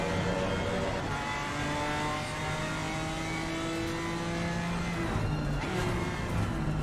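A race car engine in the Assetto Corsa Competizione sim game revs and shifts through gears, a loud, sustained whine with rising and falling tones running throughout, without speech.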